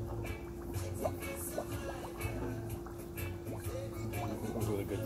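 Chocolate liqueur pouring into a martini mixer, a soft, steady liquid stream with small dripping and splashing sounds over a constant background hum.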